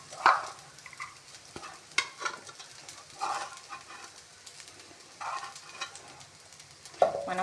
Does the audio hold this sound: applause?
no